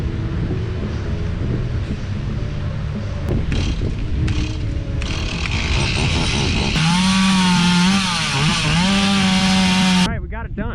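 A power tool trimming a yard tree into a space to sit under, loud and close, running continuously with rising and falling whine and a sharper high-pitched stretch near the end before cutting off.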